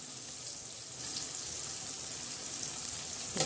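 Ridge gourd with peanuts, turmeric, salt and green masala sizzles steadily while being sautéed in a pan, a continuous soft frying hiss with a small clatter at the end and no talking.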